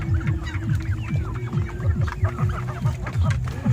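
Turkey poults keep up a steady, close chorus of rapid peeping and chirping, a dense flock of young birds calling continuously with no talk.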